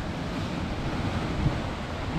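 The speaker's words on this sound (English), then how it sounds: "look at the size of this wave here." Ocean waves crash and splash against a rocky Scottish coastline, a loud, continuous roaring wash of surf with a brief swell in the middle, mixed with wind buffeting the microphone.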